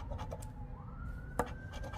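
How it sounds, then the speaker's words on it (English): A siren wails faintly outside, rising slowly in pitch, under soft scratching and tapping close by. "Sorry about the sirens."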